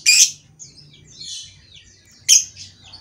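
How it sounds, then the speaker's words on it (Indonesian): Green-and-yellow lovebird kept alone in a cage, giving sharp bright chirps at the start and near the end with softer twittering calls between, close and fairly loud over a faint low background hum. "Nah, yang ini juga ada burung lovebird yang warna hijau kuning, dia dipisahin sendirian."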